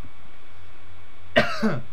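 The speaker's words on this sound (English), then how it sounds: "Oh, cough." After a quiet hum, a single short cough bursts out near the end, followed by a softer throaty follow-up.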